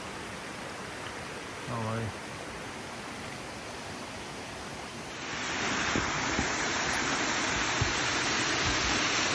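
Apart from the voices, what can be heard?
small waterfall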